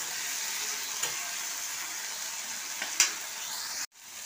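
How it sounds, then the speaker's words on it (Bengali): Salted onion and tomato masala hisses softly in a pan while being stirred, with a couple of faint scraping knocks from the spoon and a brief cut near the end. "নুন দিয়ে ভালোভাবে নাড়ছি"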